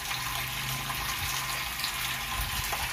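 Fresh water pouring into a tilapia fish tank, a steady splashing rush like a running tap filling a container, continuous and fairly close, with no talking.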